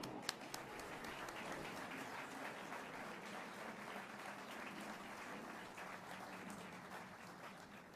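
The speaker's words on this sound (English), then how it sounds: "Please join me in another round of applause for our distinguished award winners." An audience at a Navy LGBT Pride event applauds award winners with sustained, even clapping from a large crowd. It is fairly quiet and distant, with a couple of sharper claps standing out early.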